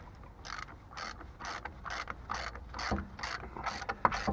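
A ratchet wrench clicks in quick regular bursts on a Ford Mustang, about nine short strokes at a steady rhythm, close and distinct with no talk.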